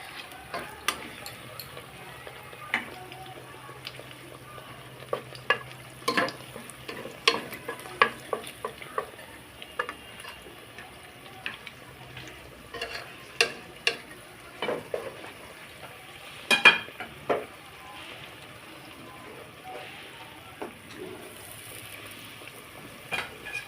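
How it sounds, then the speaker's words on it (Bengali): Eggplant fritters (beguni) frying in a pan of oil, with a soft steady sizzle under scattered clicks and scrapes of stirring, heard alone without speech. "একটু সময় নিয়ে ভাজবো চার পাঁচ মিনিট"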